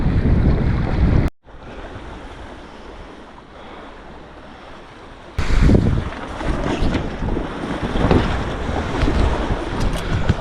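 Sailboat running with its genoa and mainsail split in light winds on the North Bahama Bank, with steady wind noise buffeting the microphone and waves washing along the hull, briefly cut near the start, then louder and gustier.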